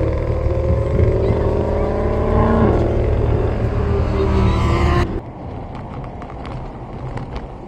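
Sports car pulling hard through second, third and fourth gear on the Folembray racing circuit, a loud close engine roar rising in pitch with each gear before the note drops away abruptly and rougher rumble continues.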